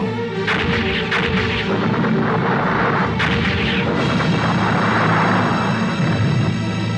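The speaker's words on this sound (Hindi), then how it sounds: "आया उनका जवाब आया उनका तोपखाना" Heavy cannon artillery booms roll out in a loud, continuous barrage, with sharp blasts cracking through a deep rumbling roar.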